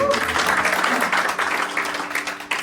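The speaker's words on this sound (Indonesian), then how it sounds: "Tepuk tangan dulu dong." Church congregation at a Sunday service claps together in a brief, lively burst of applause, dense and fairly close, with some voices mixed in.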